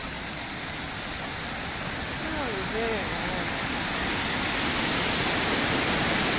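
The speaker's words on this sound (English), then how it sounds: "Okay, this is the dam." River water rushes steadily over a dam in Madrid, a broad, constant roar filling the scene and growing slightly louder toward the end, with faint birdlike chirps briefly audible in the middle.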